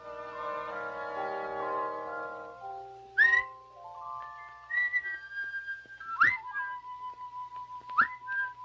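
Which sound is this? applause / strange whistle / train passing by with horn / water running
strange whistle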